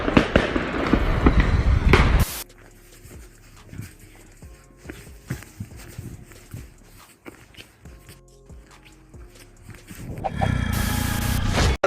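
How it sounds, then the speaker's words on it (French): Gunfire crackling through a neighbourhood during riots, heard as many sharp, irregular bangs and pops echoing at mid-distance, with loud bursts of noise at the start and end. "C'est une scène de guerre. Ça tire, ça tire."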